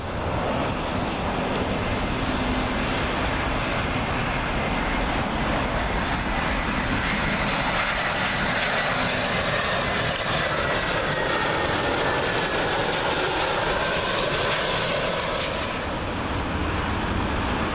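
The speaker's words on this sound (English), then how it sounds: "Next up, another FinnAir A320, arriving in with a flight from Malaga." Landing at Heathrow runway 27L, a Finnair Airbus A320 from Malaga sweeps low overhead with a loud, sustained jet roar, a faint tonal whine rising and falling as it passes, wind buffeting underneath.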